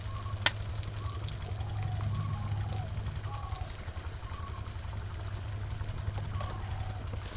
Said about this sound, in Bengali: এবার এটাকে ভালো করে টমেটোটাকে একটুখানি ভেজে নিতে হবে